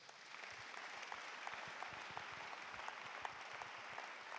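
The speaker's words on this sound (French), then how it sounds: "Nous acclamons Jésus" A church congregation claps in sustained, fairly faint applause, an even patter of many hands heard from a distance with no distinct voices.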